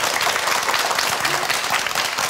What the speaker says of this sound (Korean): 우리 가족분들을 위해서 큰 박수 한번 보내주시죠.